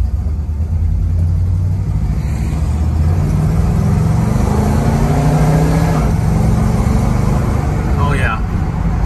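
A 1970 Pontiac GTO rolls down a road over bumps, its engine a steady low rumble with road noise throughout, loud and close from inside the cabin.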